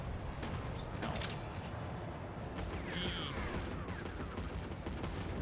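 Gunfire in a Mecha Knights Nightmare shooting gallery, dense crackling shots under a loud, steady mechanical rumble, with a brief electronic tone partway through.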